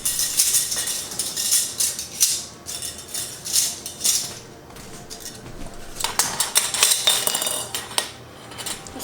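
Metal canning bands and lids for jars of pressure-canned chili clink and rattle against each other in bursts, close and bright, with brief pauses between handfuls.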